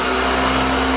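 The spindle of a Bridgeport Series II vertical milling machine runs at 250 RPM in low range, a loud, steady mechanical drone with a constant tonal hum and hiss.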